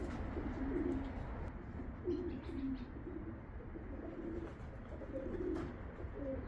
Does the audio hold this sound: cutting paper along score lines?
no